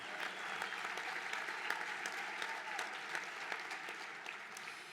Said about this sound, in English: Yes, you may clap at that.